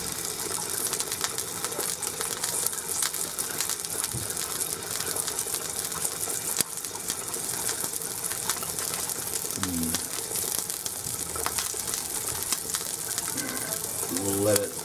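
Egg frying in an egg ring on a hot pan for a big breakfast, giving a steady broadband sizzle throughout with a few brief voiced moments and small clatters near the end.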